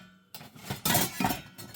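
A titanium camp cup clinks a few times as it is picked up and handled, short bright metallic taps close by with no talk.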